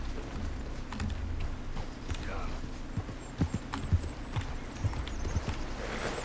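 Hoofbeats of a horse walking in Red Dead Redemption 2, an irregular clopping that grows more distinct in the second half, set against game ambience, with a faint whinny-like tone high up.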